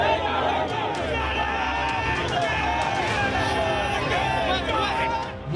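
Protesting crowd surging through the streets of Mumbai, a dense continuous roar of voices, shouting and chatter close by, with low rumbling undertones and steady loudness throughout.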